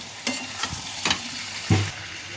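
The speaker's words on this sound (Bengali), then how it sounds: "আমি মশলাটা দিয়ে দিচ্ছি এটা হচ্ছে জিরে গুঁড়ো লঙ্কার গুঁড়ো আর হলুদ গুঁড়ো" Cumin, chili and turmeric powders frying in a pan, a soft sizzle broken by three or four brief scraping stirs of a spoon, close and quiet.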